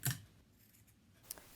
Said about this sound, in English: You'll want to make relief cuts on the corners to get a nice rounded edge along the corner